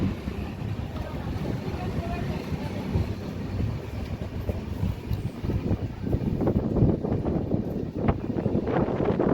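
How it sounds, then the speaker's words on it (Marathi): The Udyan Express pulls out of Kurduwadi station, a loud rumbling wind-buffeted roar of the moving train with rattling that grows busier over several seconds, no voices. "2 मिनिटाच्या स्टॉपनंतर कुरुडवाडी रेल्वे स्टेशनवरून आपली ट्रेन निघालेली आहे."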